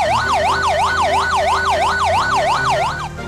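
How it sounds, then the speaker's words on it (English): A ladder fire truck's siren yelps nearby in a rapid, steady up-and-down warble, about ten quick cycles over three seconds, loud and clear over a low engine rumble. "Ladder truck."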